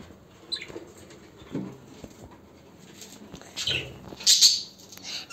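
A pet bird at home gives scattered high chirps and small fluttering and scratching sounds in a cage, soft and intermittent, with faint voices now and then.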